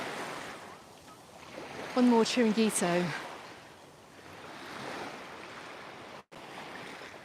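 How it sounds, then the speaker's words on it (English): Sea waves wash steadily onto the beach at Can Picafort, Mallorca, on a June evening, a continuous surf and wind rush with a short burst of nearby talk partway through. "Your birds love the sound of the waves."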